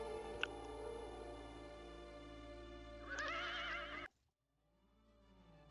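A horse in the King's Quest video game gives a loud neigh against a steady, busy game soundtrack, which then cuts off into near silence.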